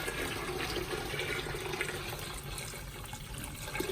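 Water is poured into a pot of cleaned tripe for menudo, a steady rushing splash of liquid running continuously and close by.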